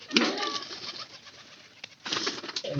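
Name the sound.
pigeons cooing in a loft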